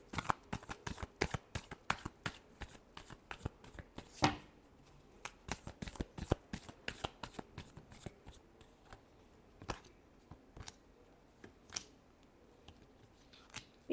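Tarot cards are shuffled by hand in a quiet room, a rapid series of crisp riffling snaps and flicks in irregular bursts, close and fairly soft.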